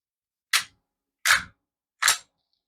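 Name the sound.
pistol firing with trigger safety off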